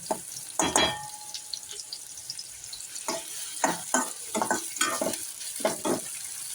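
Chopped onion and tomato sauté in a pan for a rajma dish, with a low sizzle broken by repeated scraping stirs at an uneven rhythm, close and clear without speech.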